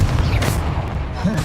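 A Confringo blasting spell goes off in a video game with a deep, broad boom, followed by rumbling impact noise that carries through the short burst.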